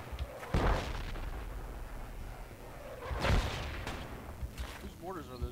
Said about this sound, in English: Whose mortars are those anyway? There's enemy mortars.